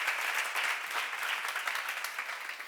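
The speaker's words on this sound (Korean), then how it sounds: "박수로 하세요" Congregation clapping during a church sermon seminar, a steady dense patter of many hands sustained throughout at moderate distance, with no voices over it.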